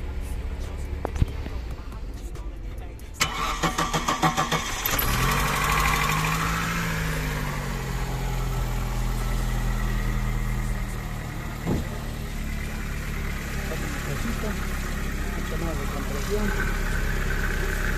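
A used Chevy car engine starts and idles steadily with a low, even rumble after some clattering at the start, holding a constant drone throughout.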